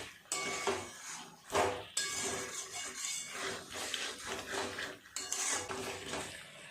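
Chicken being stirred and fried with spices in a pan over a high gas flame, with a steady clatter of a metal spoon scraping and knocking against the pan under a continuous sizzle.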